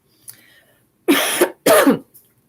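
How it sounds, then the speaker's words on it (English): Two harsh coughs sound close by in quick succession, preceded by a small throat noise, with silence around them. "Sorry about the coughing."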